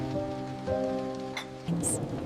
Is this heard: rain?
yes